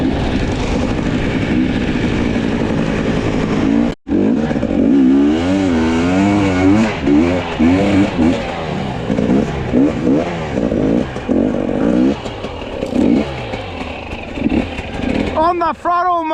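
A dirt bike engine revs hard on the throttle during off-road enduro trail riding, its rising and falling pitch sweeping loudly and continuously, with someone talking over it.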